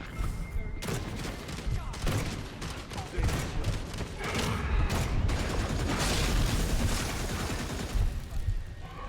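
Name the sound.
gunfire from shooting vampires in the video game Redfall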